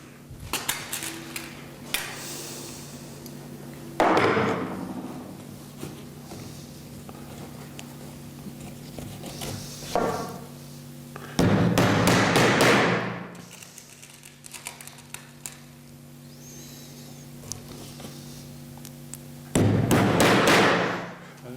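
Tacks are hammered into a theatre scenery door flat: a few sharp, isolated hammer thuds spaced several seconds apart, near and fairly loud, with quiet rustling and handling between strikes.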